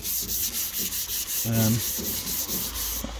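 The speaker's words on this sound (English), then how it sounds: "so that's me rubbed it all down now. I went through it with a block" A block with 120-grit paper rubs body filler on a Subaru Impreza bonnet in steady, even back-and-forth strokes, close and continuous, with no talking.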